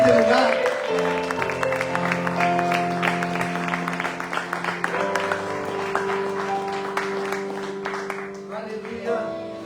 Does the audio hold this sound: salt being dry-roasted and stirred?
no